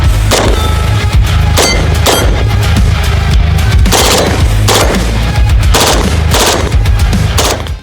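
Bursts of FN P90 submachine gun fire, a Belgian weapon from Fabrique Nationale, crack loudly in rapid automatic strings separated by short pauses, with metallic clanking between volleys and no voices.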